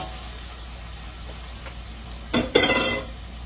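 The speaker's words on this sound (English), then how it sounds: "I need to smell it frying." Food with diced meat and habanero sizzles quietly in a pan with a steady hiss, then a louder burst of crackling as something is stirred or added.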